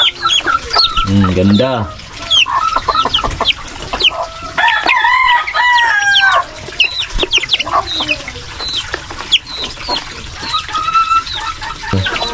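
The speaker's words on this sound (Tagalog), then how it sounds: "pakain muna tayo sa ating 3 weeks old na sisiw" Three-week-old native chicks in a small backyard flock cluck and peep steadily and close by, with louder fowl calls and a brief crow-like cry among them, as a person speaks over the birds.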